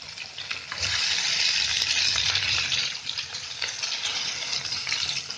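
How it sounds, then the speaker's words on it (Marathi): Whole halwa pomfret fish frying in hot oil, giving a continuous, fairly close bubbling sizzle that swells and settles slightly but never stops. "ते बुडबुडे, ते कसं मच्छी भाजते"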